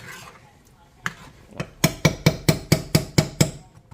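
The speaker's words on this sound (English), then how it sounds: "I gotta scrape that off, and then you got the celery soup mixture right here." Metal spatula scraping celery soup mixture off the bottom of a pot, a run of about eight sharp, rhythmic scrapes close by, following a few softer strokes, with no talk over them.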